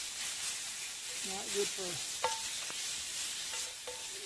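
Food frying in a poorly seasoned pan over a campfire while boondocking, a steady broadband sizzle running throughout with a few scraping stirs of a flexible spatula, and someone speaking briefly over it.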